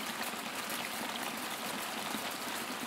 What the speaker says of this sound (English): The water bubbles, mumbles and laughs brightly.